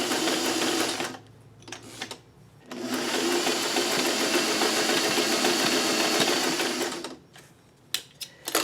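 A sewing machine runs in two loud sustained bursts, stitching a zigzag seam on a crumb quilt block, with short quiet pauses between runs and a few clicks near the end.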